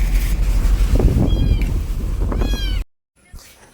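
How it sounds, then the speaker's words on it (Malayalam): A small kitten meows inside a vehicle, giving a few short, high-pitched cries over loud engine and road rumble with people talking nearby, before the sound abruptly cuts out. "നമ്മൾ പൂച്ചക്കുട്ടീനെ പൊക്കിയിട്ടുണ്ട് വണ്ടിക്കുള്ളിലാണ്"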